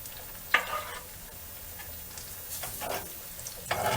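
Carrot fries in a pan with a soft, continuous sizzle, broken by several close scraping stirs of a utensil against the pan.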